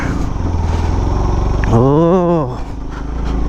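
A motorcycle labors up a steep hill road near Pelling in low first or second gear. The engine is loud and close and its pitch rises and falls sharply in the middle, with some wind noise.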